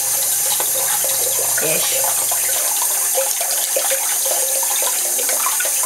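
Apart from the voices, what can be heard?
water running from a tap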